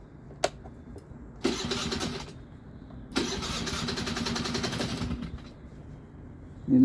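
A 2001 Hyosung Sense scooter engine cranks with a sharp click, then catches in two loud, rough bursts of revving under heavy throttle, each lasting a couple of seconds, with quiet gaps between.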